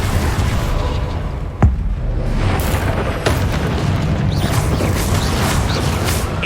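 A Confringo fire-blast spell in the Hogwarts Legacy video game, a sharp crack followed by a roaring, rumbling burst amid continuous loud game effects.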